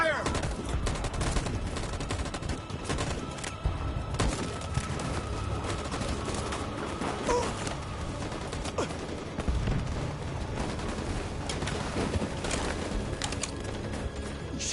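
Sustained, chaotic gunfire in Detroit: Become Human, many overlapping shots and automatic bursts running continuously at a loud, even level, with faint voices mixed in.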